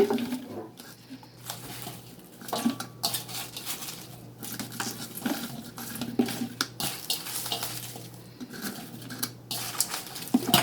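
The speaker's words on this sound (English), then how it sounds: "so I will wash my hand" Tap water runs steadily into a sink as hands are washed after packing pickled mustard greens, with splashing and patter and a few light clinks, close by.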